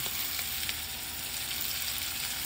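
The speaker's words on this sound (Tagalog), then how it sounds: "Tapos po natin ma-pan-fry ang manok" Steady, dense sizzling of chicken pan-frying for adobo in a hot pan, continuous and fairly loud with faint stirring noises, no voices.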